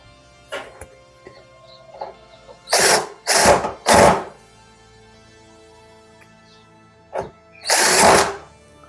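Screws driven in while repairing an LG condenser dryer, with several short, loud whirring bursts of a power driver separated by quieter handling clicks.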